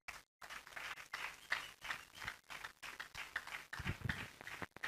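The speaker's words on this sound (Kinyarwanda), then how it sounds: "Twongere dukomere Imana amashyi." A church congregation claps together in a dense, steady patter of hands, fairly faint and continuous throughout, with a brief pause near the start.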